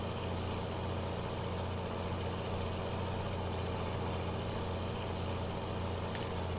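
A tractor engine in Farming Simulator 19 drones steadily at a low idle-like rumble, even and unbroken throughout, with no talk over it.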